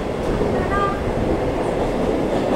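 A Mumbai local train picks up speed past Ghatkopar station, a loud steady rumble of wheels and carriage noise heard from inside the car, with a faint brief squeal partway through.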